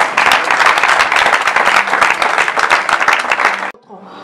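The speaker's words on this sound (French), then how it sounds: "Si vous pouvez applaudir," An audience at a youth awareness gathering breaks into dense, loud applause for nearly four seconds, then it cuts off abruptly into quiet.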